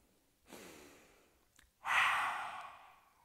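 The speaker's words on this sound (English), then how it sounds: "Breathing in through your nose." A single person breathes slowly in through the nose during a breathing exercise, a soft airy inhale followed by a louder, fuller breath, heard close up and alone.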